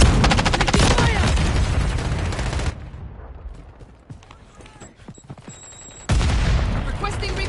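Call of Duty gunfire: dense rapid bursts of close automatic fire, a quieter pause with scattered clicks and distant shots, then another loud burst, with voices briefly heard.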